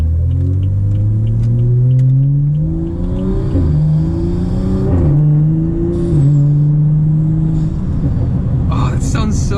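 BMW F30 335i engine fitted with a BMS Elite performance intake, revving loudly close by with rising and falling pitch as it climbs and settles, turbo spool audible, a brief sharp hiss near the end.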